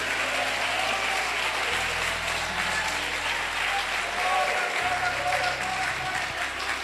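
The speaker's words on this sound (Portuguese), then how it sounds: "Desocupem as mãos, batam palmas e glorifiquem" Church congregation clapping their hands in praise during a worship service, dense continuous applause at steady volume throughout, with a low sustained tone humming underneath.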